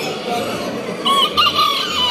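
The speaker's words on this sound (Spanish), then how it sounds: "Acá tenemos otro pollito." At a poultry show, a rooster crows partway through amid steady crowd murmur and other birds' clucking, the crow loud and fairly close.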